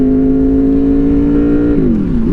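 Steady engine drone from a Honda VFR800 motorcycle while riding, holding a constant pitch before dipping as revs drop near the end; close and loud throughout with no talk.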